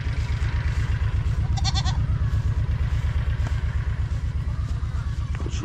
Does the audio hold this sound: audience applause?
no